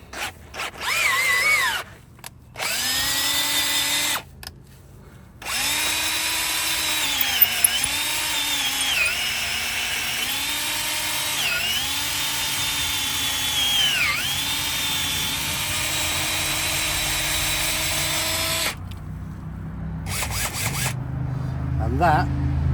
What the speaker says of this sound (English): Put the drill on the right setting, it will help.